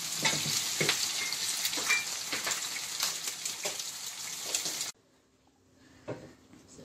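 An egg is cracked into a pan of pepper sauce and fries with a loud crackling sizzle and stirring clatter, then cuts off abruptly to near silence, with a faint clink afterward.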